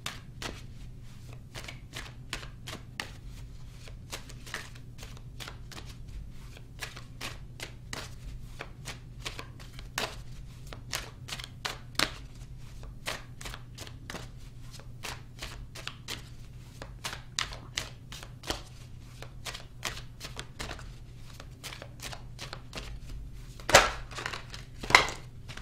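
Tarot cards are shuffled in a long series of crisp riffling snaps and taps, fairly quiet and close, with a few louder slaps near the end and no talk.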